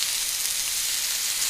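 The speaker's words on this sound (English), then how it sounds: "That's the sound of that steak sizzling." Frozen steak sizzling in a hot, dry skillet with no oil, a steady broadband hiss that holds evenly and fairly loud throughout, close up with no talking.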